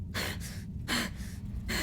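A person imitates strained, awful breathing echoing through a room, three rasping breath bursts in a row, close and fairly loud, with no other sound.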